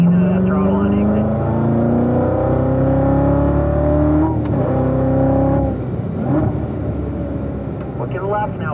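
A race car engine on a mountain circuit revs up hard out of a corner. Its rising whine climbs steadily, then drops as the driver shifts and pulls again. Loud, with a voice talking over it.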